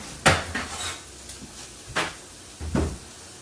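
A metal pan is moved aside on a kitchen stovetop while fish tacos are being cooked, giving several separate clanks and scrapes of cookware, loud and close, with quieter knocks between them.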